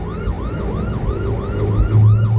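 An ambulance siren wails in fast, repeating rising-and-falling sweeps, loud and near, as the vehicle pushes through traffic with engine rumble underneath.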